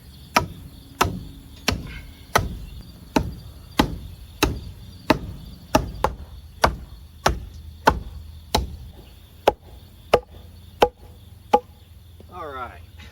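Camping axe chopping firewood outdoors: a steady series of about sixteen sharp, loud wooden thunks spaced roughly a second apart, each ringing briefly before the next strike.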